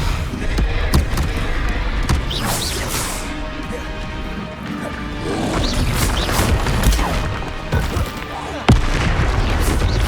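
Booming, crashing spell blasts and impacts from Hogwarts Legacy combat with the Confringo fire spell, loud and continuous over a dense layer of game effects, with a spoken line mixed in.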